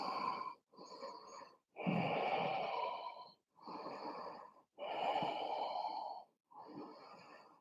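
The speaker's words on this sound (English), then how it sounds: "Another three deep breaths in and out." Slow, deep yoga breaths come in and out close to the microphone, six long airy inhales and exhales separated by short pauses, with no talk.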